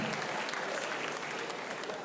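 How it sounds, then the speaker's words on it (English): A crowd applauding steadily, a dense wash of clapping hands that holds throughout. "I beg, clap, clap, clap."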